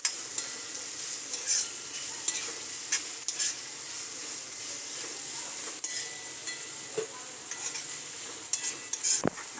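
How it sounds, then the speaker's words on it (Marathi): Capsicum and shredded cabbage fry and are stirred in a pan while noodles are being made, with a steady hiss of sizzling oil and repeated scraping and clinking of the spatula close by. "सर्व आता हलवूया."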